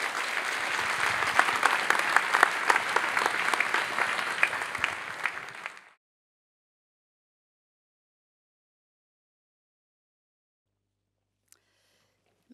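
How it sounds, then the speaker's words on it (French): Audience applause at a university academic year opening ceremony: dense sustained clapping from a large hall crowd for about six seconds, then cutting off into silence. "Je vais inviter solennellement notre rectrice Anne Michos à délivrer son discours de rentrée sous vos applaudissements."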